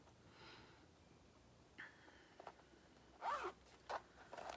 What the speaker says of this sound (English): Then it also has this zip pouch here.